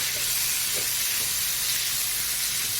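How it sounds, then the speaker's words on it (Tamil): Chicken pieces sizzle in hot oil in a pan, a steady soft hiss of frying with faint stirring ticks, alone without talk. "இது வந்து ஒரு 1/2 குக் ஆகிற அளவுக்கு நம்ம இந்த எண்ணெயில் வதக்கிக்க போகிறோம்."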